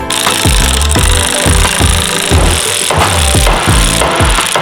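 Holes are drilled while fitting a seat into a Porsche 993. A loud power drill grinds in short repeated bursts, each rising and falling in pitch in a steady rhythm, close up with no talking.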